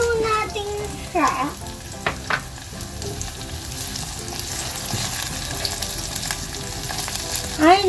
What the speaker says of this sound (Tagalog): Now, we're gonna gisa our bawang. Now, we're gonna put our onion.